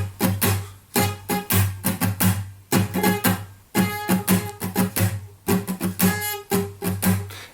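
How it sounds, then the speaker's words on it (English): Acoustic guitar strummed in the accented pattern of a song, a steady rhythmic run of down-up strokes with regular louder accents, close and clear with no talking. "So the strumming pattern sounds like this."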